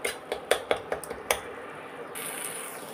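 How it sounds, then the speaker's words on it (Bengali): A utensil scrapes and clinks against a pan while pumpkin leaves are stirred in hot oil, about six sharp knocks in an uneven rhythm, then a steady hiss that brightens toward the end. "এবার ভালো করে তেলের মধ্যে পাতাটাকে একটু নাড়িয়ে নেব।"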